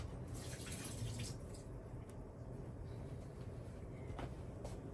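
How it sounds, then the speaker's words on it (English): Water pours steadily out of a pot of boiled potatoes as it is drained in a home kitchen, a continuous close splashing rush with no talk. "Let me just drain the water from the potatoes."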